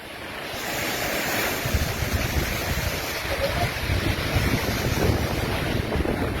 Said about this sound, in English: Wind heavy.